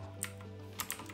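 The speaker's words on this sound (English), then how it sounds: "Search GitHub and type" Computer keyboard typing a GitHub search while setting up a Raspberry Pi, three short separate key clicks over a steady electrical hum, close and quiet.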